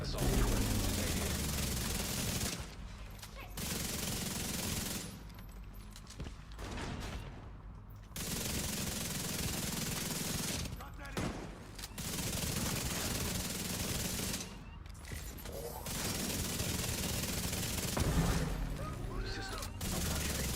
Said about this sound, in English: Hostile assault weapon detected.